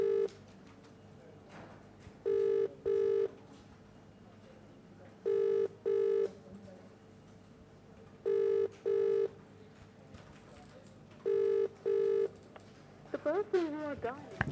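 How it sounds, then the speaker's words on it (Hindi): Telephone ringback tone on an unanswered call, repeating paired rings at a steady rhythm over a faint hum and background noise, with a brief rustle at the end. "फ़ोन लगाया गया है इन्हें, बेल बज रही है, घंटी बज ज़रूर रही है"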